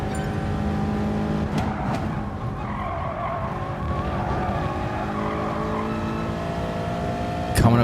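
A race car engine in GT Sport, driven on throttle through a manufacturer race: a steady droning engine note with shifting pitch, tyre squeal and skidding sounds, and a brief sharp burst near the end.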